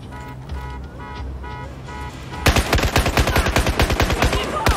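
Rapid submachine gun bursts in the Battlefield 4 video game, a dense run of sharp, evenly spaced shots that starts suddenly after a quieter stretch of game music and continues loud to the end.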